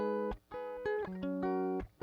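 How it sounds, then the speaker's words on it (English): Dry synth or keyboard arpeggio fill running through a chord progression with no effects, bright harmonic notes plucked in quick succession over about two seconds, close and alone. "It's an arpeggio fill without any effects."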